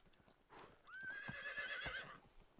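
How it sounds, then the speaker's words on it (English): A horse in the medieval life-sim game Medieval Dynasty gives one clear, rising whinny over a couple of seconds, with soft hoof clops and faint ambient game noise around it. "Good horse"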